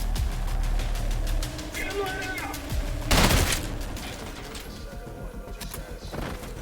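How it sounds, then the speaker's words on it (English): Bursts of SMG fire from the shooter game Trepang 2, rapid automatic rattling with a loud crashing blast partway through, under a continuous game soundscape and a talking voice. "The pistol's a viable weapon, but up close the SMG does a solid job."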